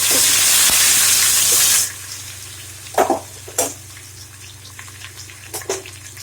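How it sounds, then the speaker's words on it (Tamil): Chopped onions hit hot oil for mutton biryani with a loud, steady close sizzle that cuts off abruptly, followed by quieter scattered stirring knocks and clatters in the pan. "வெங்காயத்தை குத்தியாச்சு வெங்காயத்தை குத்திட்டு நல்லா கிளறி கிளறி விட்டுக்கோங்க"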